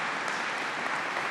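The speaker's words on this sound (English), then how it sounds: "Let's give a round of applause." A crowd at a governor's housing announcement applauds steadily, a dense wash of clapping hands at even loudness throughout, with no voices standing out above it.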